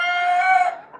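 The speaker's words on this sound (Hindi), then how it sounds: "ये सब मुर्गियां जो है ना वो अंडा देने के लिए जा रही है।" A single close, drawn-out hen call sounds briefly on its own at a poultry farm, then trails off.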